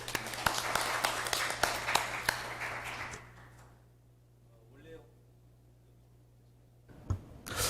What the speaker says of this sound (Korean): 먼저 우리 박은갑 위원님 큰 박수로 맞이하시길 바라겠습니다.